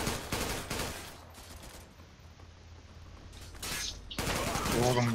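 Gunfire from a Kobra gun in the online shooter Zula, with bursts of rapid shots at the start and again near the end, separated by quieter game ambience, with a voice talking.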